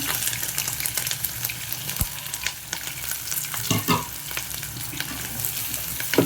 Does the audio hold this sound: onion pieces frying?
yes